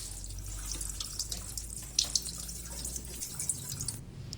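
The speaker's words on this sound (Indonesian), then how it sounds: "Sayur-sayurannya dicuci terlebih dahulu dan dipotong-potong" Kitchen tap running and dripping as vegetables such as cauliflower are washed in a sink, a soft steady water flow with scattered drips and light splashes, fairly quiet and without talk.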